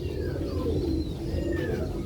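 Silver Lahori and Siraji fancy pigeons coo at a bird farm, low throaty murmuring under a steady background hum, joined by a few thin higher chirps from other birds.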